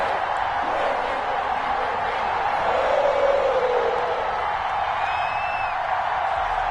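Steady roar of a large stadium crowd at a Jacksonville Jaguars vs Cincinnati Bengals NFL football game, a dense continuous wash of cheering voices with a brief swell midway and faint whistles near the end.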